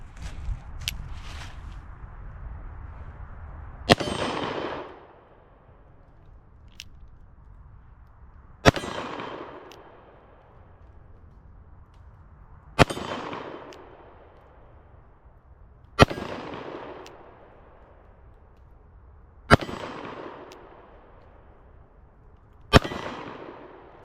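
Six sharp, loud gunshots fired at a target, spaced roughly every four seconds, each with a booming echo that trails off before the next shot.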